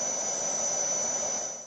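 An airplane jet engine gives a loud, steady whine with a high pitched tone over a broad roar, held throughout before easing slightly at the end.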